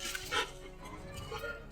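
A dog ordered to attack gives short, sharp barks and yips, fairly close and loud, against a noisy background.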